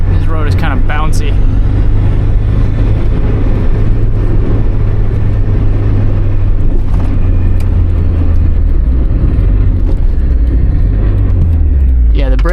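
A Mazda Miata driving on a bumpy, bouncy road, a loud continuous low engine and road rumble heard from inside the cabin, with a voice talking over the drone.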